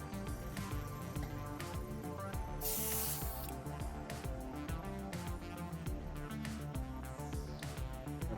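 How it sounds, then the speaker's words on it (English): Bursts of aerosol spray paint hiss through a stencil onto a model Tau Sunshark bomber, with a strong spray pulse near the start over a backdrop of continuous music. "and then I'm going to spray the next color on"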